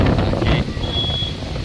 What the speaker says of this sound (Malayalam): ഭയങ്കര കാറ്റ് കേട്ടോ.